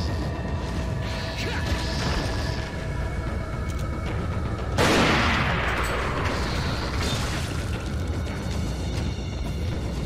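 Gunfire in the video game Resident Evil 4, with a loud burst near the middle of a dense, continuous mix of game noise and mechanical clatter.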